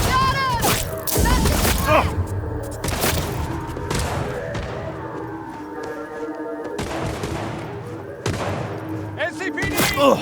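Bursts of gunfire, heavy thumps and booms punctuate a Cyberpunk 2077 Phantom Liberty firefight, with sharp shots spaced irregularly over a droning background.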